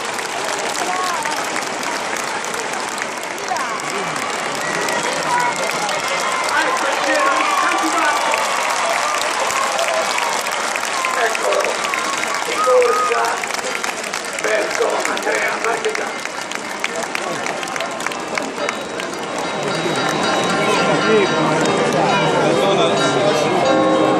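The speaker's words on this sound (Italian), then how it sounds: "Sentite che il campanone aggiunge la sua voce anche all'applauso" Crowd applause rolls on steadily through the whole stretch during the raising of the Ceri in Gubbio, with the great civic bell ringing into the clapping and cheering; a voice talks over the dense, continuous noise.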